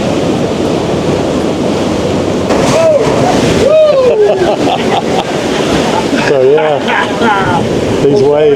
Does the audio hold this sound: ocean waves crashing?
yes